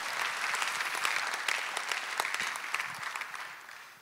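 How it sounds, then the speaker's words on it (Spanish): Church congregation applauding during a Spanish-language service, a loud continuous wash of many hands clapping that holds strong and then slowly tapers off, with a few sharper claps standing out near the end. "Dale otro aplauso a la roca que se llama Jesucristo"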